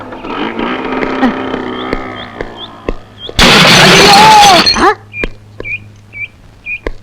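A loud crash of a scooter smashing and scraping bursts out midway, lasting over a second, with engine noise and voices before and scattered clatter afterward.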